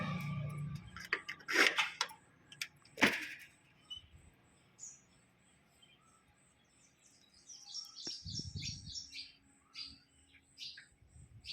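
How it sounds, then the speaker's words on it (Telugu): Birds chirp and tweet in a village garden in short, scattered calls, some near and sharp, others fainter, with a few soft thumps and rustles in between. "ఇక్కడ పక్షుల సౌండ్ చూడండి, ఒకసారి వినండి."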